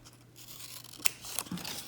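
Scissors cutting out a paper snake head for a craft project, giving a few soft snips and paper rustles, close and fairly quiet with no talking.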